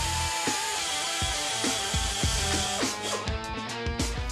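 An abrasive tool grinds weld away from a gun barrel during restoration, loud and close with a rough, uneven buzz broken by repeated scraping bursts.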